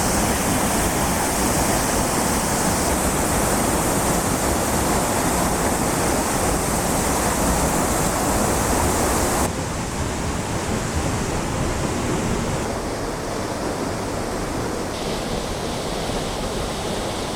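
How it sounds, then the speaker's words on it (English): Dawson Falls, a waterfall on Mt Taranaki with mist toward its base, roars as a loud, steady broadband rush of falling water, continuous throughout with a slight drop in level partway through and no voices. "You can really see the waterfall from here from a higher vantage point."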